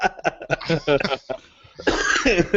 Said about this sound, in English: You didn't cough up something with that, did you?